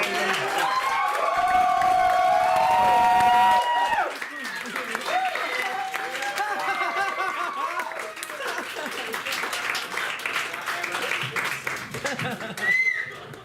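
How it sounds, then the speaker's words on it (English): Audience applause and cheering after a stand-up comedy set, with fading music at first, then sustained clapping, whoops and some laughter from a lively crowd over several seconds. "please give another big round of applause for Torres!"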